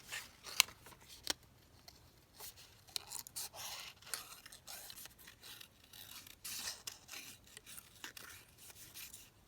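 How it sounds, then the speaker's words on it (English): Scissors snip through a laminated paper flower in a quiet room, a run of short, faint crisp cuts and rustles at an irregular pace, with no talking. "I'll just quickly cut this flower out"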